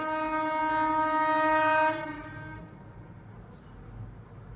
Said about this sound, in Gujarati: ટ્રેન આવી છે મિત્રો હું તમને ટ્રેન બતાવી દઉં